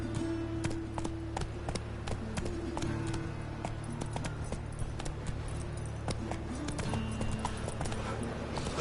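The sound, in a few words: horse Roach galloping in video game Witcher 3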